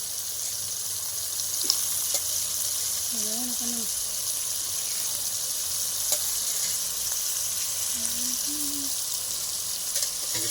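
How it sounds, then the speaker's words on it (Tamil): Steady broadband sizzling of rabbit meat frying in a hot pan, continuous throughout, with a couple of brief tonal squeaks in the background. "கறி நல்லா சேர்த்து இப்போ நல்லா வதக்கிக்கலாம்."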